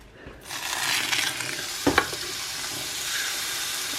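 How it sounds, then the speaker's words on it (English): Pork, fat side up, searing on a hot griddle, giving a steady close crackling sizzle that rises as the meat goes down, with a couple of brief clanks and scrapes midway and no talking. "I wanted it to sizzle a little bit more, so I'm going to turn that up."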